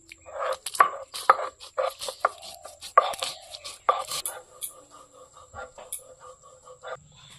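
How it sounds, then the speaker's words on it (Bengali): Peanuts and mustard seeds ground with water on a grinding stone: rhythmic scraping and rubbing strokes about twice a second, close and fairly quiet, easing into softer, lighter rubbing toward the end. "বাদাম আর সর্ষেটা আমি বাটি নেব"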